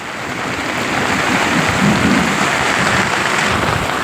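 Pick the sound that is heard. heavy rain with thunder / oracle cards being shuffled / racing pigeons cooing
heavy rain with thunder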